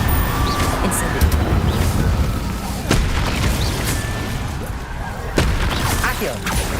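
Incendio fire spell cast repeatedly in Hogwarts Legacy, a dense roar of fiery blasts and booming impacts with sharp bursts near the start, middle and late, over continuous game rumble.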